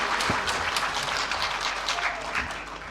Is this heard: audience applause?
yes